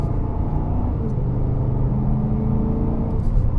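A BMW X5 M60i in sport mode gives off a steady low engine drone and rumble from inside the cabin, a sustained mid-throttle hum with slight pitch shifts and no talking.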